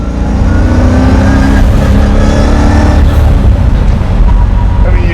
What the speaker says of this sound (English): I mean, you definitely hear the whine of the gears.